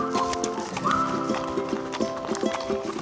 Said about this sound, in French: C'est bien là mon petit cheval, hein.